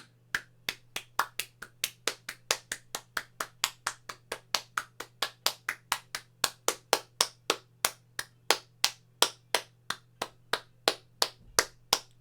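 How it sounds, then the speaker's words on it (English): One person clapping hands alone at a steady, even rhythm, each sharp crisp clap distinct and close, dozens in a row, over a low constant background hum. "I did 2 minutes of clapping there."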